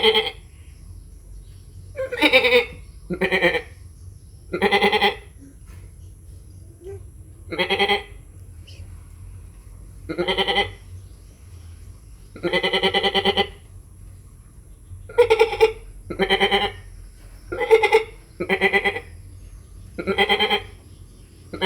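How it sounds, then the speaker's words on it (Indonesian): Goats bleat repeatedly in short, loud, wavering calls, about a dozen separate cries spaced irregularly over a quiet background. "suara kambing ya. Ini suara kambing ini."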